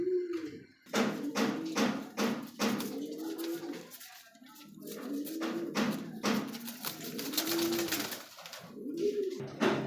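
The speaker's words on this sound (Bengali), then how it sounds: "হোয়াইট কালার মধ্যে আরও একজন কবুতর এটা হচ্ছে জার্মান বিটুমা কবুতর" Pigeons at a pigeon farm coo repeatedly in low, rolling phrases, close and fairly loud, mixed with scattered sharp taps and rustles.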